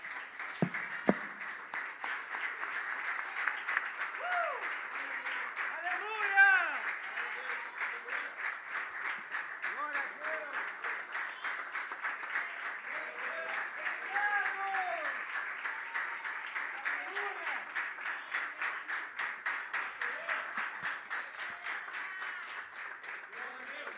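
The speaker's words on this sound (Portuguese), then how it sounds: "Vamos aplaudir o nome do Senhor nessa noite?" A church congregation claps together in rhythmic, sustained applause, loud and continuous, with voices calling out over the clapping now and then.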